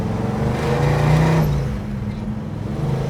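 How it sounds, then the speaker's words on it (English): A deep, loud big-block engine in a 1967 Chevrolet Chevelle rumbles and revs up, then eases off, a throaty V8 growl close by. "Listen to the big block one more time."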